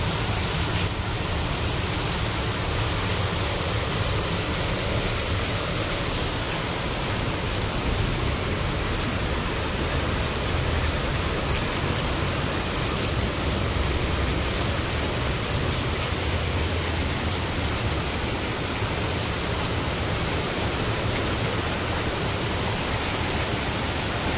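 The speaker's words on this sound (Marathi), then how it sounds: "तर घरी आल्या आल्या जोरात पाऊस सुरू झालेला आहे." Heavy rain pouring down without a break, a dense, loud, steady hiss that fills the whole stretch with no voices.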